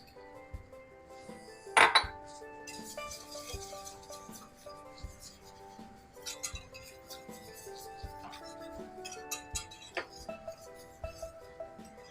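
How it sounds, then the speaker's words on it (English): A spoon stirs heavy cream into a thickening Swedish meatball sauce in a pan, giving soft scattered clinks and scrapes with one sharp knock early on. "And we're going to stir that together."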